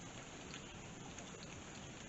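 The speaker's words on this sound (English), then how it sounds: "It's just rain, mamas, just rain." Steady rain pattering on a surface, a continuous soft hiss at low level, with no voices.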